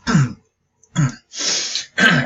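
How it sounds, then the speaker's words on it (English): Someone nearby clears their throat in four rough, raspy bursts, with short pauses between, the third drawn out longer than the rest. "I clear my throat there."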